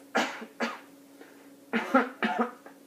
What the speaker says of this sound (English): I'm going to have you go ahead and cough like this.